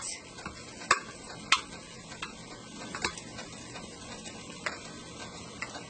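A wet cornbread seafood dressing mixture is stirred, with quiet, irregular clicks and soft scrapes from the utensil spaced through a low background and no speech.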